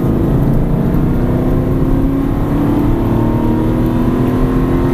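An Aston Martin V8 Vantage accelerates hard on a track, its V8 engine droning loud and steady from inside the car as the pitch climbs gradually, with no voices over it.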